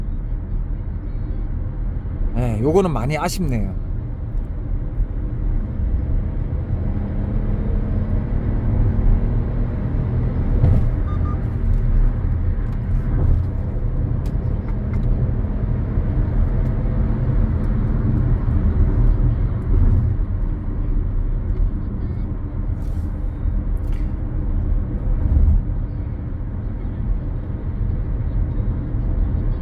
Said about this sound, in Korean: 악셀을 밟았을 때 좀 깊숙하게 밟았을 때 실내로 들어오는 이 엔진 소리